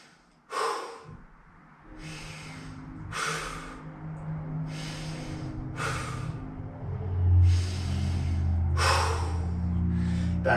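Deep, forceful breathing during a kneeling twist stretch in a home workout: about seven slow breaths in and out, each a loud airy rush close to the ear, evenly spaced, with no talking.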